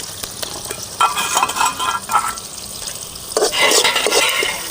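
Chopped large onions, about a cup, frying in hot oil in a village kitchen: a steady bright sizzle with stirring scrapes, swelling louder as the pan is worked, no talk over it.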